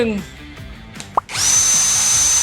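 An OSUKA OCD701D1 cordless battery drill with a 5-in-1 interchangeable head, running on its low setting of 450 rpm, whirs up after a soft click and holds a steady, loud, close whine.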